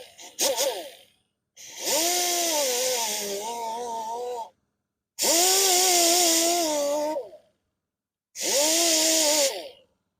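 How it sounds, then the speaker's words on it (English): An angle grinder strips chipped paint from the curb-rashed lip of an Audi wheel. It whines in four separate bursts, one short and three lasting a few seconds each, with silent pauses between them. "I'm going to try to get that out with the grinder without touching the wheel face here."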